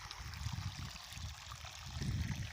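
Borewell water gushing out to irrigate coconut trees, a steady rushing, splashing flow heard close and continuous throughout.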